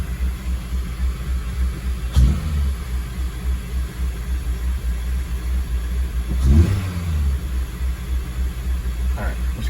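A 2003 Acura RSX Type S engine with a surging idle pulses with a low rumbling idle, then revs up in two short throttle blips, close and loud.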